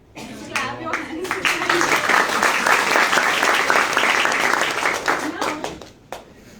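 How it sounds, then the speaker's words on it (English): An audience at a talk on Gen Z health claps in response, beginning with a few scattered claps, swelling into full, lively applause, then thinning to a few last isolated claps. "Clap your hands."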